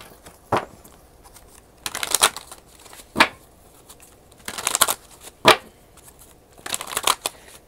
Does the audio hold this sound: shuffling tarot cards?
yes